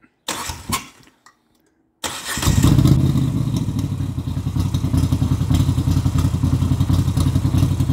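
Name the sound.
Moto Guzzi V7 850 with custom exhaust starting and idling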